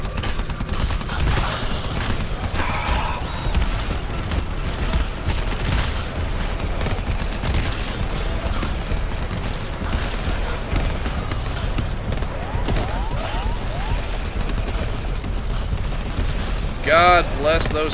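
Sentry turrets blasting away nonstop in the co-op shooter GTFO, a loud, continuous stream of rapid gunfire layered with booms and game chaos, with voices talking and shouting over it.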